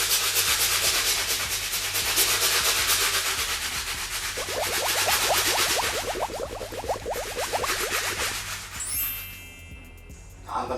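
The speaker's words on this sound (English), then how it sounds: "So we're going to use our cleaning solution. We're going to get our stiff bristle brush." A stiff bristle brush scrubs the outsoles of Gucci Blossom slip-on sneakers with cleaning solution, loud continuous rasping strokes that turn to quick rhythmic back-and-forth scrubs before fading out near the end.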